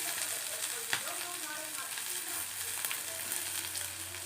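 Onions, curry leaves and green chillies sautéing in a pan give a steady close sizzle with a few soft stirring knocks, and a low hum runs underneath.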